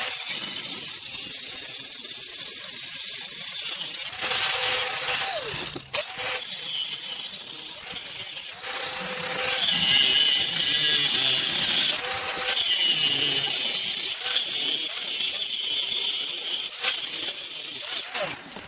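A power tool grinds and cuts through the metal of a freon tank, removing its valve and top, with a harsh, continuous high-pitched whine that rises and dips as the blade bites and pauses.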